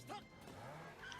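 A car in the Gyrozetter anime drives past in a short, quiet whoosh of engine and tire noise, brief and somewhat distant.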